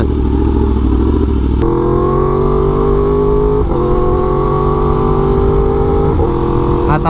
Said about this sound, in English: the R1M is definitely like the motorcycle that I prefer